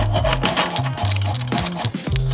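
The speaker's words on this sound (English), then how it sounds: "And we hacksaw this little by little" A hand hacksaw cutting through a Can-Am Ryker sway bar, quick back-and-forth rasping strokes in a rapid continuous rhythm, loud and close with no speech.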